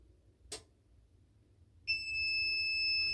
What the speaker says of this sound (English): We'll just wait for the timer to go off.